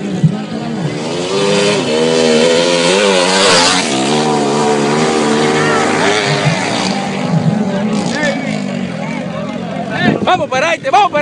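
Small 90cc racing engines whine and rev continuously on a racetrack, their buzzing pitch rising and falling as machines pass, with excited voices talking over the loud, steady engine noise throughout.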